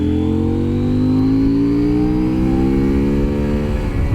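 A 2023 CFMOTO Ibex 800T adventure motorcycle accelerates hard, its engine note climbing smoothly and steadily in pitch without a break, loud and close as if from the rider's seat.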